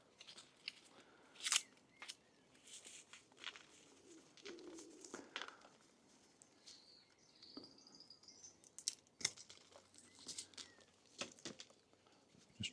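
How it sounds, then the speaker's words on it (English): Scissors snip through plant roots inside a polytunnel, with sharp, irregular clipping cuts close by, some soft crunching, and faint birdsong and a cooing pigeon in the background, with no voices. "Just trim the roots off as well."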